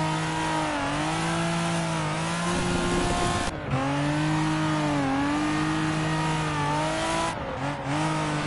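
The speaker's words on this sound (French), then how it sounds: "la sonorité, le turbo là sur ces autos" A turbocharged car in the Assetto Corsa racing game revs hard during drift practice, its loud continuous engine note climbing and falling with two brief dips as it shifts gear, with no talk.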